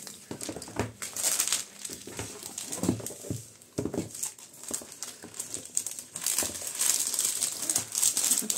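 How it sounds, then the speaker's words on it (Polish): Plastic foil sleeve crinkling and rustling as an album is slid into it, with irregular crackles, rubs and soft taps, close and moderately quiet throughout, no voices. "Nasz album włożyć w tą folię"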